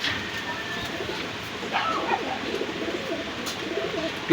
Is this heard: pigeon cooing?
yes